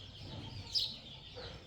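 A hen kept in with a rooster gives a faint, brief cluck or squawk, quiet and somewhat distant against low background rumble.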